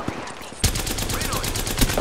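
Loud rapid automatic gunfire in the video game Apex Legends, a steady stream of shots starting abruptly after a short quieter lead-in, with a player's voice faintly beneath.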